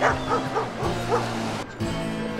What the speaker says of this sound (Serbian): ovaj pas, koji bez ikakvog straha laje i zaleće se na morske lavove